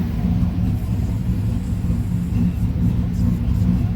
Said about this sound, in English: I fucking love that idle.